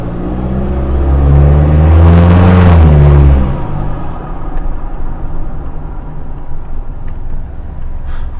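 Mitsubishi Triton with a new full exhaust driving along, a loud low engine rumble building to a peak and then easing back to a steady cruising drone.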